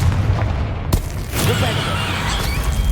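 A fire spell explodes in Hogwarts Legacy with a sudden sharp crack, then a second burst follows with crackling debris over a constant low rumble.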